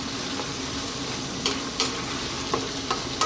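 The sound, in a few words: stirring chicken pasta sauce with cream in a hot pan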